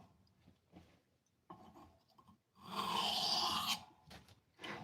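A blade is drawn across a 400 grit stone in short, rough rasping strokes, faint and close, then one longer, louder scraping pass, with no voices.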